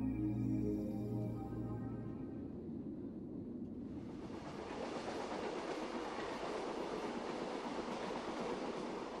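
The Royal Orient luxury train travels overnight through Gujarat, a steady loud rumble of rail wagons with rolling clatter; a low tonal hum fades in the first seconds before broadband track noise fills the rest, with no talk.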